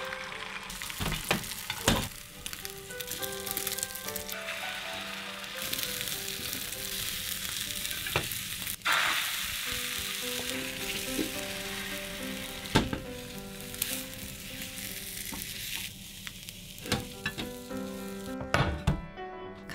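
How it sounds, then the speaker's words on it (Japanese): Steady crackling sizzle of a Japanese rolled omelette with green onion frying in a pan as it is rolled, with occasional clinks and scrapes of a utensil, no talking. "卵焼きを巻いていきます。"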